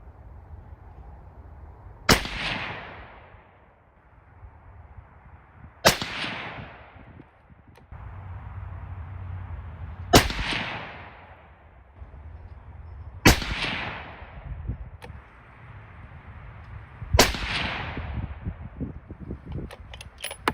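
Five rifle shots firing Hornady 105 Aeromatch bullets over a 35-grain Varget load, evenly spaced several seconds apart, each a sharp loud crack with a decaying echo over quiet outdoor background.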